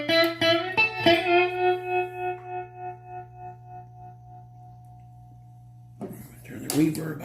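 Electric guitar on the neck pickup played through a well-worn Gibson GA30-RVT tube amplifier: a few plucked notes and chords ring out with long sustain and slow decay, then fade before a brief scrape or handling noise near the end.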